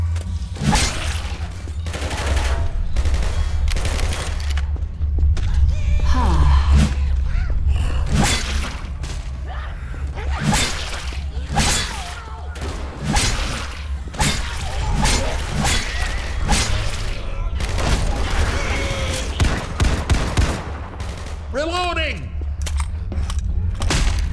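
Rapid bursts of gunfire from Left 4 Dead 2 crackle loudly and continuously, with dense volleys and whooshing shots layered over a low rumble, and brief voices cutting in between the shots.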